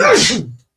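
A single loud, close sneeze bursts out with a voiced wail-like tail, then cuts off into silence.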